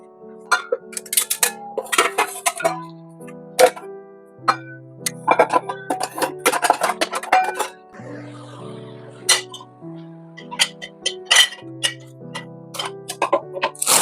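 Steel dishes, pots and pans clink and clatter as they are set in place in a home kitchen, with sharp, irregular metallic knocks and ringing tones close by.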